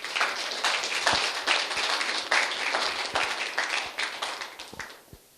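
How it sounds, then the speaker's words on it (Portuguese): Applause at an official medal ceremony (Cross of Merit 2016) rings out as a dense, steady clapping from a sizeable audience, holding for about five seconds before thinning out and fading near the end. "Forte aplauso para você, Nantur"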